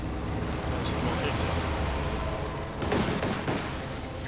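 An anti-tank bombing run in the Company of Heroes 2 strategy game, with a dense rumble of distant explosions and gunfire, then a few sharper blasts cracking near the end over a continuous battlefield din.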